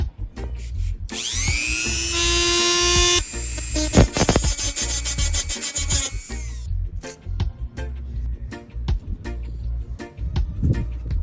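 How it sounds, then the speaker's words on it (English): A Dremel rotary tool cutting a slot in a rusted fender screw on a 1967 VW, a loud high whine that spins up, grinds with bursts of metal chatter for several seconds, then winds down amid handling clatter. "So I'm gonna grab my Dremel, I'm gonna slice a line right here"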